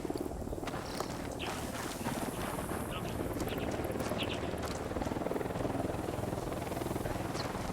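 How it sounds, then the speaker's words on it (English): An enemy helicopter patrols in the video game Ghost Recon Wildlands, its steady rotor drone heard faintly within dense game ambience and scattered small effects, continuous throughout. "Unidad bird on patrol. Watch out."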